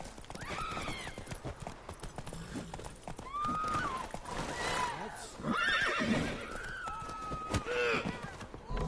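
Several horses whinny and neigh in the game The Witcher 3: Wild Hunt over steady hoofbeats, with clip-clopping and shrill calls repeating amid a busy, lively scene.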